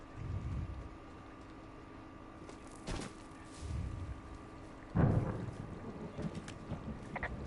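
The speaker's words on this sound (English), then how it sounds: "Hey, I heard some thunder." Thunder in the video game Firewatch, several low rumbling rolls and a sharper crack that swell and fade amid steady rain and wind-like ambience, with no talk.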